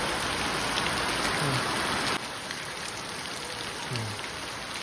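Steady rain falls in a village in Botad, Gujarat, a broad even hiss of drops on surfaces that holds throughout, dropping slightly in level partway, with faint low sounds briefly underneath.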